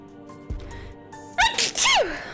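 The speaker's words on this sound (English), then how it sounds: "Sorry, that was a loud baby sneeze." A loud human sneeze bursts out after a few soft clicks and thumps, a sharp double-peaked blast with a pitched vocal tail, close and dominant over quiet background game sounds.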